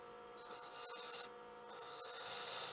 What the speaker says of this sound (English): Now I need to cut tenons on both ends here